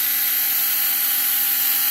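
A small drill bores a hole through a plastic model kit window, giving a steady high whirring hiss that holds at an even, close level for the whole moment, with no talking.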